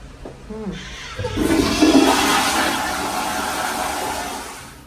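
An automatic sensor toilet flushes with a sudden loud rush of water that swells and then slowly tapers off, heard up close in a restroom during air travel, with no voices.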